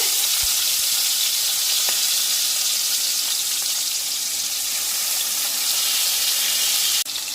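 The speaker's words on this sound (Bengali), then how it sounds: "মাছগুলোকে একটু ভালো করে ভেজে নিতে হবে" Sarputi fish fry in hot oil with a loud, continuous hiss and crackle throughout, close up, with no voices.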